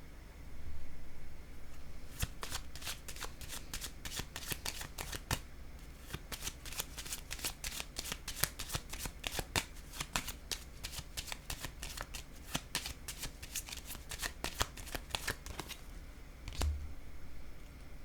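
Playing cards being shuffled, handled and laid down on a table, a long run of crisp close snaps and flicks in quick, irregular bursts, with no one speaking.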